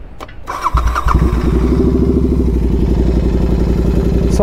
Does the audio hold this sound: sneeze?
no